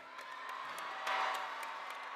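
Distant graduation crowd at the University of Maryland cheering and whooping in a large venue, a steady wash of voices with a brief swell of louder shouting partway through.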